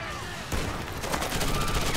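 Gunfire in the Tom Clancy's Rainbow 6 Patriots debut trailer, a video game set in a Times Square bomb attack: loud, close bursts of rapid shots crackle together, thickening into a dense fusillade after the first half second.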